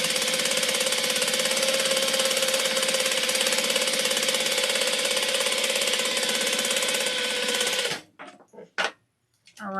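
Juki DDL 5550N industrial sewing machine running a steady, fast, continuous stitch for several seconds, then stopping abruptly and giving a few short bursts.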